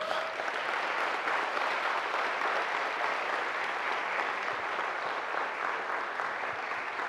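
Audience at a Toastmasters conference in Poland claps in sustained, dense applause, steady and even throughout with no speech over it.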